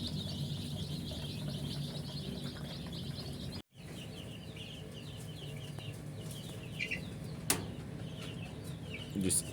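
A flock of four-week-old layer chicks in a brooding house cluck and cheep continuously, a busy chorus of small bird calls with light wing flutters and a brief dropout.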